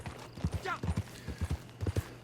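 Hooves clop at an even walking pace in the video game Red Dead Online, a handful of crisp, nearby knocks in quick pairs, with a brief voice heard over them.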